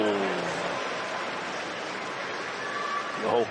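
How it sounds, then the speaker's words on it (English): A table tennis crowd at a world championship match lets out a broad, sustained groan, a loud wash of many voices that swells and then slowly fades. "The whole crowd. A groan of exasperation."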